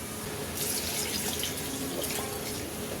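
Water runs steadily into a cooking pot for beef nehari with onions, a continuous splashing pour that starts abruptly and holds at an even level, close by, with no talking.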